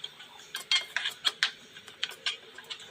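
A spoon scrapes and clinks against a cooking pan while tomato chutney with onion, coriander, mustard seeds and curry leaves is stirred, giving irregular light metallic taps and scrapes, close and fairly quiet.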